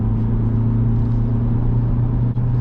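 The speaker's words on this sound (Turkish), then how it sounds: "Hemen yüksek devirler çevirmeye başladı." A 2020 Ford Kuga Titanium's 1.5-litre 120 hp diesel revs under acceleration in sport mode, a loud steady low engine drone and rumble heard from inside the cabin, with a brief dip near the end.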